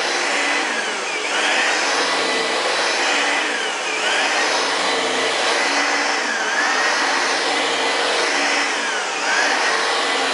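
A vacuum cleaner motor runs steadily and loudly for the whole stretch, its pitch rising and falling in slow, repeating sweeps, with no voices.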